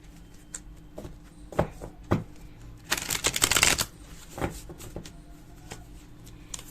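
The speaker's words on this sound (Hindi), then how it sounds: "देखते हैं कुछ और कार्ड से कि क्या फ्यूचर में आप दोनों का साथ लिखा है।" Tarot cards are shuffled in a few short riffles and taps, building to a dense papery flutter midway, close and fairly quiet, without talking.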